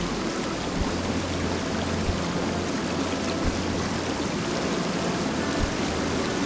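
Rushing waterfall in the fantasy video game Tainted Grail: The Fall of Avalon, a steady broadband roar of falling water that continues unbroken, with a low hum beneath it.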